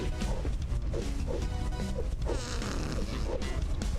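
Fart noises sound in the physics game Ragdoll Party Online, a dense run of short, buzzy blasts within loud, busy game audio.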